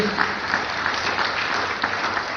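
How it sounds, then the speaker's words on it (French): A church audience applauds, a dense and fairly even wash of hand clapping that carries on steadily at moderate volume. "On peut mettre ensemble nos mains pour applaudir."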